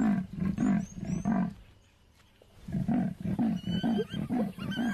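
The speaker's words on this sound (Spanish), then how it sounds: "Pero su grave rugido es ahogado por unos sonidos revoltosos." A lion in the African wild giving deep, grunting roars in a rhythmic series, pausing briefly mid-clip before another run of roars, with faint birdsong high in the background.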